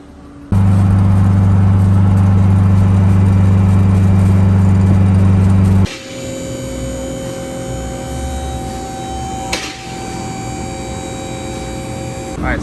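An AWD Honda Del Sol engine drones steadily while driving, a loud low hum that shifts to a brighter, higher whine partway through, with no voices.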